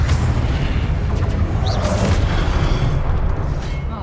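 Spell-cast blasts in the Hogwarts Legacy video game, a fire spell and an explosive spell, form a dense, continuous roaring boom with a brief whooshing streak partway through, loud throughout with no gaps.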